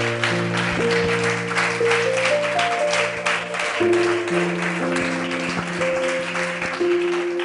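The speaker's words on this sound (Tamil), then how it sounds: "அந்த இயேசு கிறிஸ்துக்கு நல்ல ஒரு கரதோஷத்தை எழுப்புங்கப்பா." A church congregation applauds in a sustained, even burst of clapping over held keyboard chords that change about halfway through, continuing without a break to the end.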